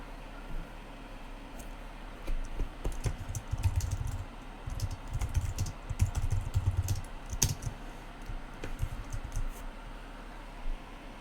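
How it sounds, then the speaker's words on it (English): Steady clicking of keys being typed on a computer keyboard, quick irregular taps at moderate distance over a faint background hiss. "I can hear him type. I can hear tappity tap."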